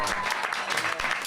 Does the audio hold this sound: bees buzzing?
no